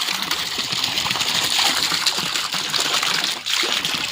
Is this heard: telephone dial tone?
no